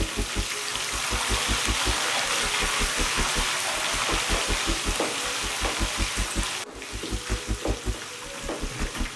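Green chillies fry in hot oil in a pan, giving a steady close sizzle and crackle broken by a regular low thumping beat that runs throughout.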